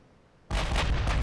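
A USS Montana battleship fires a heavy salvo in Ultimate Admiral: Dreadnoughts. After a quiet lead-in, the guns break into a sudden, loud, booming roar that rumbles on without talk.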